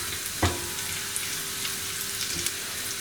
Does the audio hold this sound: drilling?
no